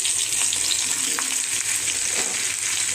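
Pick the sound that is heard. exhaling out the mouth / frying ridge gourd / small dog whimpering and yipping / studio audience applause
frying ridge gourd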